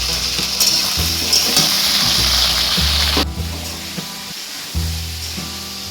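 Bitter gourd frying in oil with turmeric gives a loud, dense sizzle close up, with shifting bursts and scraping as the pieces are stirred around the pan.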